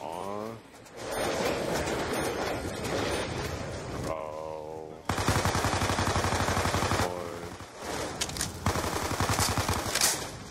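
Barrett sniper rifle firing in Black Ops 2 Zombies on the Alcatraz map, loud heavy gunshots and sustained bursts of gunfire with game effects, some passages rapid and dense, over a continuous battle din.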